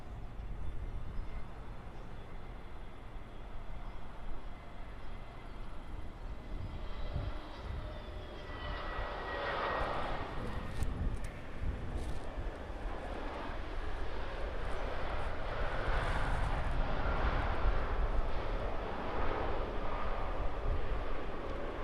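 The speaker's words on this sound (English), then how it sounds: "We've got an EasyJet A320 just about to land on 33 from Amsterdam." An EasyJet Airbus A320 arriving from Amsterdam lands on runway 33, its jet roar rising from far off and swelling steadily louder as it passes over, heard outdoors with broadband rumble and whine.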